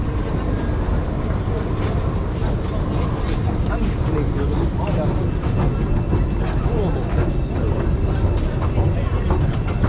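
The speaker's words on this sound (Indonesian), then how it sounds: "Ini ASMR stasiun Turki." Busy ambience inside an old Turkish railway station, a steady low rumble of trains and machinery with scattered clatter and footsteps, and people talking throughout.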